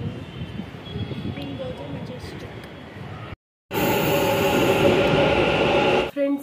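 A metro train rumbling at a station, a loud steady roar of rail noise with a brief gap, then a louder surge of wheels and carriage noise, with voices mixed in.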